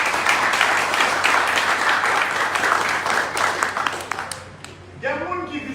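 An audience claps at the Jacmel town hall, a dense sustained round of applause that thins out near the end, followed by a person beginning to speak.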